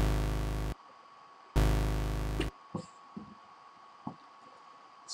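A synth bass patch built from three oscillators in NI Massive plays two long, loud, buzzing sustained notes, followed by a few short soft blips and clicks, with no talking.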